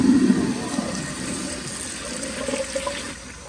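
A 2001 Kohler Tyrrell Serice flushes, a loud close rush of water that peaks at the start and then settles into a steady draining gurgle.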